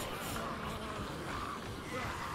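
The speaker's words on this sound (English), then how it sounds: "The bees do kill him." Swarming bees buzz in the Xbox One game Dead Rising 3, a steady dense drone that fills the short moment without pause and without any talk over it.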